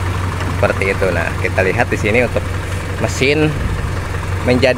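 A Toyota Kijang engine idles after a distributor timing adjustment, giving a steady low hum beneath someone talking close by.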